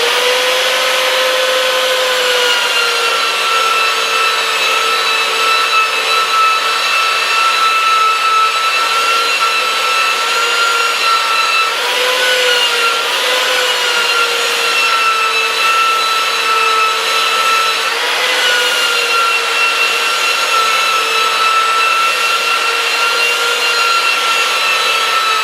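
Wood surface sanded with 80-grit paper to clear small black spots, a continuous loud whirring power-sander hum with steady scratchy friction across the whole stretch, alone without talk.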